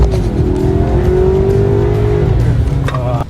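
A 2-liter turbo Ford Maverick accelerates in sport mode, its engine heard from inside as a loud steady drone with a rising whine, easing off near the end as a voice briefly breaks in.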